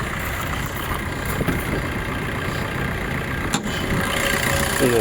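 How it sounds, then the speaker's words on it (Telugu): Steady car engine idling at low and mid pitch, continuous and fairly loud throughout with one brief click partway, no voices over it. "మరి ఇంజన్ సౌండ్ కూడా ఏసీలనే వినిపిస్తున్నాయి"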